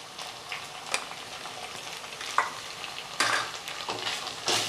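Chilli powder, onion-garlic masala and turmeric are stirred and sautéed in a hot pan for a Maharashtrian potato bhaji, giving a steady close sizzle and frying hiss with scraping stir strokes and spatula taps.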